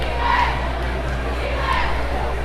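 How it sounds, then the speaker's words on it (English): A large crowd in a gym at a girls' high school basketball district championship semifinal, a steady, dense roar of voices and cheering filling the space throughout. "Well, pretty good crowd here."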